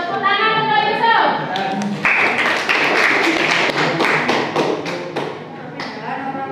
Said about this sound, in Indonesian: Tepuk tangan untuk Yusuf.